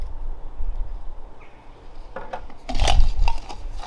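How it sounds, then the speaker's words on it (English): Metal clinks and scrapes as the folding canister stand of an MSR camping stove is opened out, quiet handling at first, then a cluster of sharper close rattles and taps near the end. "We put the two legs on flat, lift that one up, and that supports our gas can."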